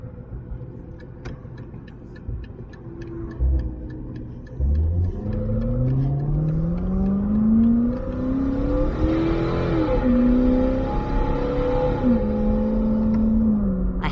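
A Chevrolet Corvette C7 engine idles with a deep rumble, then revs up repeatedly, pitch climbing and falling, loud and close, with no voices.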